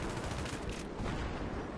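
Gunfire in the video game Battlefield 3 during a Rush match: dense, continuous bursts of rapid shots crackle for about two seconds with no talking over them.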